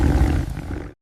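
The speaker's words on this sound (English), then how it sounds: "The leader growled." A wolf pack leader growls as a story sound effect, one deep, rough, loud snarl held close for about a second before cutting off abruptly.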